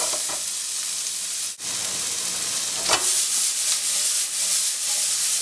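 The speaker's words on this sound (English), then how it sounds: "Give them a quick saute." A pan sauté of salted ingredients for Thai peanut curry chicken gives a steady, close, broadband sizzle that runs almost the whole time, with a brief dip partway through and slight stirring scrapes.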